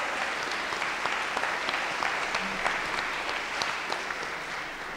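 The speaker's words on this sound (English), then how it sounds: "we should give them a huge round of applause" Steady audience applause fills a hall at a national world culture quiz final, a dense wash of many hands clapping at even loudness for the whole stretch, with no voices rising above it.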